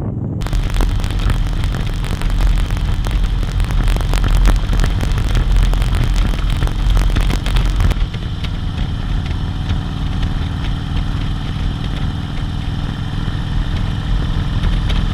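Motorcycle riding along Mary Valley Way near Kandanga, a steady engine drone with heavy wind rumble throughout, louder for the first eight seconds and then settling a little quieter.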